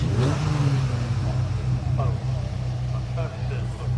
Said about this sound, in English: We're just waiting for the whistle and the cars will head out.